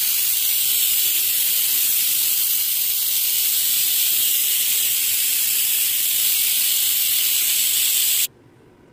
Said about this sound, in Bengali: এই যে সিটি উঠছে